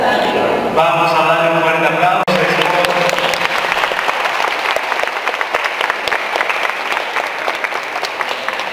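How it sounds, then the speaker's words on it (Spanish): A congregation gives loud, sustained applause during a church wedding ceremony in Tula, Tamaulipas, the clapping dense and continuous after a brief stretch of voices at the start. "Vamos a dar un fuerte aplauso."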